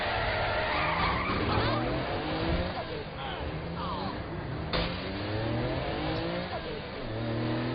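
Tires squeal and skid as a car spins donuts in Saints Row: The Third, with a revving engine under loud game music and chatter throughout.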